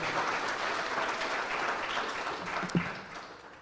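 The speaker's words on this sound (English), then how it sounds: "Can you please give Dr. Barry another round of applause?" Audience applause at a university student entrepreneurship programme launch, a sustained even patter of many hands that thins toward the end, with one sharp knock near the close.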